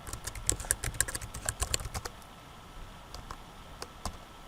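Someone types a password on a computer keyboard with a quick run of close, crisp key clicks, then a few scattered, softer keystrokes after a pause.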